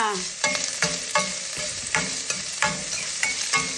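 Garlic and ginger frying in a pan while being stirred for a chicken soup with malunggay, a steady sizzle broken by repeated scraping stirs at a regular rhythm, close and fairly loud, with no one talking.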